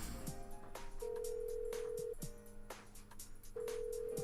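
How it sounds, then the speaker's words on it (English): An unanswered phone call in Persona 4 Golden: short electronic ring tones repeat at steady intervals over faint background clicks and soft game ambience. "Let's try and call Yosuke."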